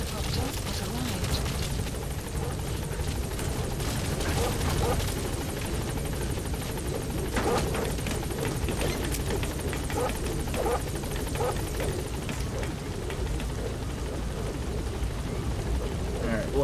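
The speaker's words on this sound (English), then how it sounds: "Support helicopter has arrived." A support helicopter arrives in Metal Gear Solid V: The Phantom Pain, its rotor drone and engine rumble filling the scene continuously with scattered sharp bangs over it, while a voice talks faintly underneath.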